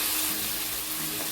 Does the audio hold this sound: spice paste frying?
yes